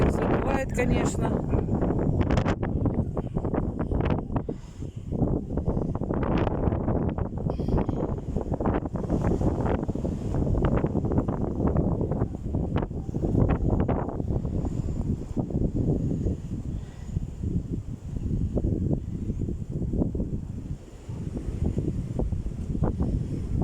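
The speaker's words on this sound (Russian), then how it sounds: "Ветер задувает, конечно." Strong wind blows steadily across the microphone outdoors, a loud continuous roar and buffeting through the whole stretch, with people talking over it.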